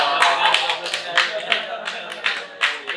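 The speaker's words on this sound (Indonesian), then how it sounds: "Tepuk tangan dulu dong." A few people clap their hands in an uneven rhythm of distinct claps during a conversation at an arts studio (sanggar seni). Voices carry on under and between the claps.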